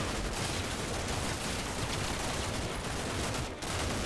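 Dense, continuous gunfire from a .50 cal machine gun and a Mark 19 grenade launcher in the video game Combat Mission Black Sea, a sustained loud barrage with overlapping bursts and no pauses.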